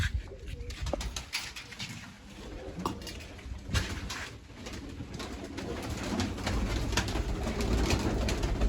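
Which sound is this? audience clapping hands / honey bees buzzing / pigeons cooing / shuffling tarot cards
pigeons cooing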